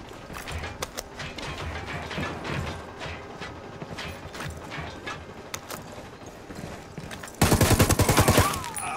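A rapid exchange of gunfire in Ghost Recon Wildlands, shot against enemies in a building. Scattered sharp shots come first, then a loud, dense burst of automatic fire erupts near the end.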